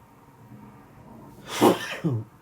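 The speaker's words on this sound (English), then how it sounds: "Excuse me. Sneezing over here." A single sharp sneeze bursts out after a quiet, breathy lead-in, followed by a short exhale, close to the microphone.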